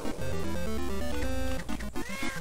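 A cat meows in the video game Mouse Trap amid busy electronic music and sound effects, the cry short and tonal, rising over a steady musical backdrop.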